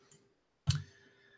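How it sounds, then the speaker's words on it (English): A computer mouse clicks once, a sharp close tick after near silence, with a fainter click just before it. "Double clicking things here. My mouse is a bit touchy."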